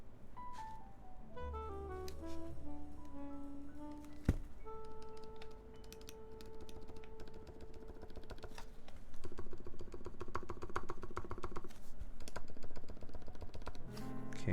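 Typing on a custom Uni660 mechanical keyboard with a slightly rattly sound: quick, close clicking keystrokes in irregular bursts over a background of faint tonal music.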